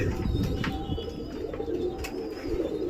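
Young pigeons coo and settle down onto a netted loft, a steady low cooing close by with faint occasional chirps and no clear wingbeats.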